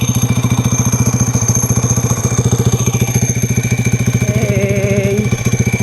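Honda Click V4 scooter fitted with a dry clutch, idling steadily close by with a fast, even, throbbing engine beat and a rattly clutch clatter throughout.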